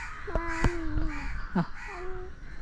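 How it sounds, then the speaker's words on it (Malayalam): A crow caws several times in short, harsh calls, fairly close but not loud, with quiet outdoor background between the calls. "കാക്കയാണോ?"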